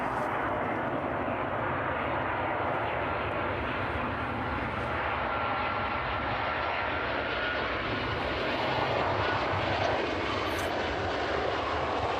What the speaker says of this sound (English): inbound jet 2 there, just catch that one as it lands in